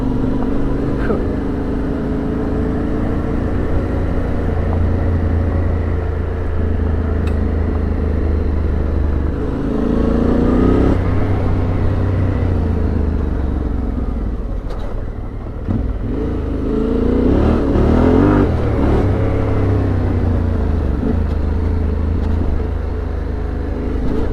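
A vehicle engine droning steadily on a rough rainforest track with nasty washouts, a continuous low rumble that rises and dips as it climbs and lurches, loud and close throughout, with talk over it at times.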